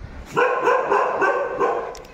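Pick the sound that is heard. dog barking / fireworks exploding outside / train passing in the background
dog barking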